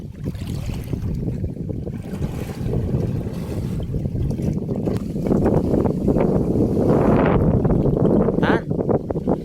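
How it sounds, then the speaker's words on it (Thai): Strong wind roars continuously across an open outdoor spot, with gusty buffeting against the microphone that builds louder toward the end, steady throughout with no voices. "ลมแรงมากครับ"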